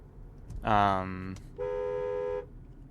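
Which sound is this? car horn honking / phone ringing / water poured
car horn honking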